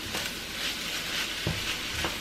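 Cauliflower rice stir-frying in a wok for keto shrimp fried rice, a steady close sizzle with brief scraping stirs of the spatula at intervals, no talk.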